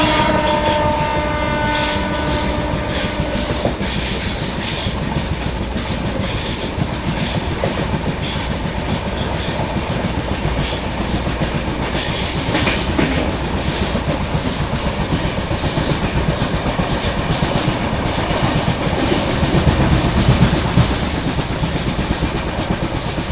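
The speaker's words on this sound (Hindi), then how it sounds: "दोस्तों ये आ रही है पुष्पक एक्सप्रेस" The Pushpak Express rushes past a railway crossing at close range, a continuous loud roar and rhythmic wheel clatter, with a sustained horn blast in the opening seconds and a hissing rush throughout.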